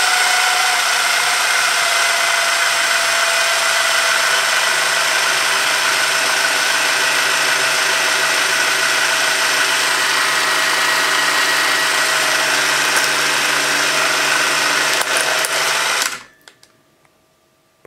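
A Krasnogorsk-3 film camera converted to Super 16 runs with a fast, steady mechanical whirr and clatter, close and continuous, then stops abruptly near the end, leaving near silence.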